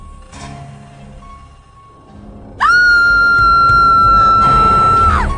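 A person screams in terror at a monster's face in a horror story, a loud sustained high shriek held for about two and a half seconds after a quieter lead-in.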